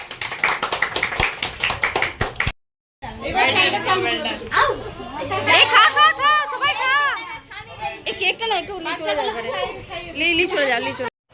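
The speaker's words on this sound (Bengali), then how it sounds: "জোরে হাততালি দে।" A quick burst of rapid hand clapping from a few people at a birthday celebration, then lively overlapping chatter and voices close by.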